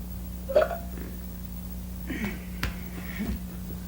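A person lets out a short, fairly quiet belch, followed by a few faint vocal noises against a low, steady background hum in a quiet space.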